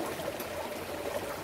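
River water streams and trickles steadily over a short moment, a soft continuous burble close by with no voices.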